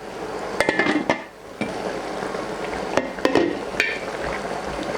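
A metal lid is set onto a pot of simmering chicken and pork pochero with cabbage, giving a few sharp clanks and clinks over a steady low kitchen hiss, close by and with no one speaking.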